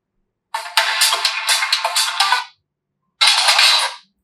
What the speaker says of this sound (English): Now to change the ringtone, just tap on ringtone.